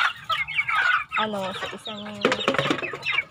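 Native hens clucking close by in a small backyard flock of six laying hens, with short repeated clucks and calls broken by pauses, a person talking over them.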